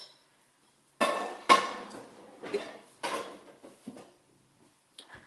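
A lid going onto a pan of cooking eggs in a home kitchen, heard as a few close metallic clanks and rattles in quick succession, then quieter taps, with no talk.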